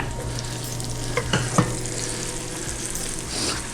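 Leeks sizzle in a pan on a stovetop, a steady frying hiss broken by a few sharp scraping clicks of a utensil near the middle, with no voices.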